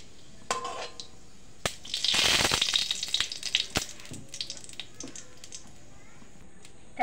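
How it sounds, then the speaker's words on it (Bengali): White cumin seeds hit hot oil in a wok, setting off a sudden loud crackling sizzle that fades over a couple of seconds, followed by scattered faint clinks and pops nearby. "আমি এখন তেলটা দিয়ে দেবো কড়াইতে। আমি কটা সাদা জিরে দেব"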